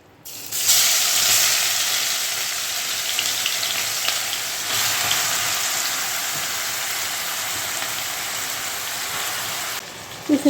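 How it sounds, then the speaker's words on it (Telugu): An ingredient for a curry hits hot oil and sets off a loud, steady, hissing sizzle that holds evenly for about nine seconds before cutting off, with a few clinks at the end. "ఆయిల్ కాగిపోయిందండి ఇది వేసేసుకుందాం"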